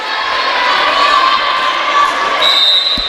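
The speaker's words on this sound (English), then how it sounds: "Crowd really getting into it." Loud crowd cheering and shouting in a gym at a college volleyball match, a dense sustained roar close by with a referee's whistle sounding near the end.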